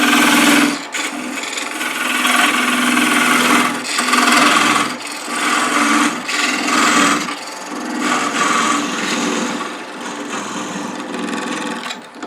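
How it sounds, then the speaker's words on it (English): A wood lathe cuts a parting groove into a globe ornament blank, the tool rasping and scraping loudly against the spinning wood in long sustained passes broken by several brief pauses. "Widen that parting cut"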